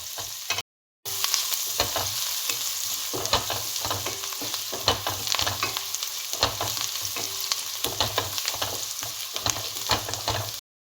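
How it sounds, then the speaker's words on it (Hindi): Onions frying and being stirred in a steel kadhai, a steady close sizzle with scraping stir strokes throughout, broken by a brief silence near the start. "यहाँ पे प्याज अच्छे से फ्राई हो गई"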